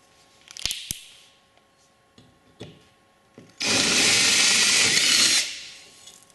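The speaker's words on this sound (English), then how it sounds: "now I'm going to final drill it to the 1/4 inch size, because that's the size of our bolts, the AN4 bolts" A power drill bores a 1/4 inch hole through an aircraft gusset for AN4 bolts, a steady loud whir running about two seconds after a few short clicks and bumps, close and alone.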